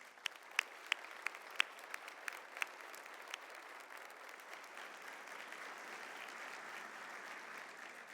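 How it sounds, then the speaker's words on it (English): Steady applause from a large luncheon crowd at a robotics championship event. It opens with a few sharp, close claps, then settles into a dense, even wash of clapping that continues without talk. "Let's have them stand up in a huge round of applause."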